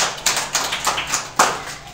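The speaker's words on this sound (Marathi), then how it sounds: "टाळ्या वाजवा बरं यांच्यासाठी." Schoolchildren clapping in a classroom, a short burst of light, scattered close handclaps with a couple of sharper accents, no talk.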